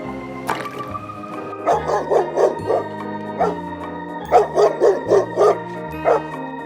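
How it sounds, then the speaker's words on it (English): A dog barks in quick bursts, several sharp barks grouped in two runs with a few yips, heard over a steady musical backing and no voices. "This is dog."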